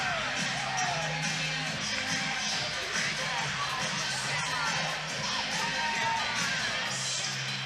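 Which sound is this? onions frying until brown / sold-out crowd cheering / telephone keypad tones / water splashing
sold-out crowd cheering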